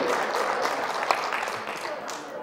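Brief applause from an audience at a real estate lecture on integrative cancer treatment, a soft, even wash of clapping over a couple of seconds.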